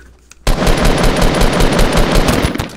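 Automatic gunfire in Fortnite bursts in loud and close after a brief quiet lead-in, a rapid, sustained rattle of shots that runs without pause.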